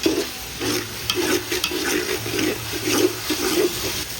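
Ginger garlic paste sizzles in a pan while being sautéed for coconut milk biryani, with a close, rhythmic scraping and stirring over a steady frying hiss.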